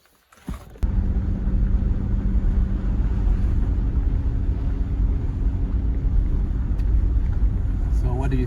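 A 1995 Ford Ranger pickup truck driving, its engine giving a steady low rumble that starts abruptly after a door-like thump and continues evenly, heard from inside the cab with light wind noise.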